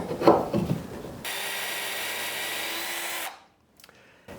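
A power drill pre-drills holes into wood for garden shelf supports, one steady whirring run of about two seconds after some brief handling noises, close and fairly loud, then stopping abruptly.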